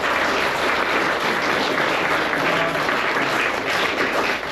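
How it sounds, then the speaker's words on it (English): A large crowd at the South Australian Baking Show awards claps in a sustained, even roar of applause for the whole stretch, loud and without pauses. "So give yourself a massive, massive round of applause."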